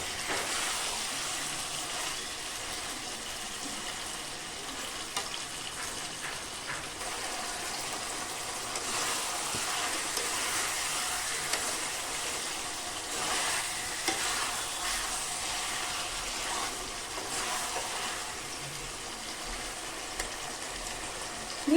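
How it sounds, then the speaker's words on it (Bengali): Chicken and spices frying hard over a high flame, a steady loud sizzle with constant stirring scrapes running unbroken throughout, close and alone without talk. "ফ্লেমটা কিন্তু হাই রেখে মাংসটাকে কষিয়ে নেব।"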